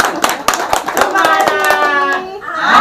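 Children clap their hands together in a steady, quick rhythm, a loud run of sharp claps over a voice and a sustained tone.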